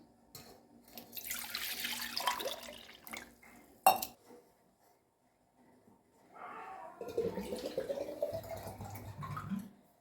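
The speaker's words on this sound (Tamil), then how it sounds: "இப்படி கமுத்தினோம்னா தண்ணி பூரா சொம்பில் போயிடும்." Tender coconut water poured from the nut into a metal vessel, sloshing and splashing in two bursts with a brief clink between, fairly close and with no talk over it.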